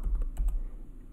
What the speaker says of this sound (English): I will type the command